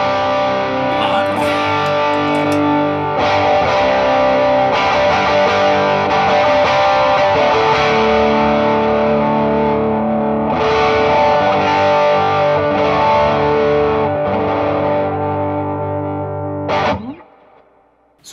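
Electric guitar through a Strymon Sunset dual overdrive pedal with its JFET stage switched off, playing sustained overdriven chords and notes for about seventeen seconds, loud and continuous, with no talking, before it abruptly cuts off.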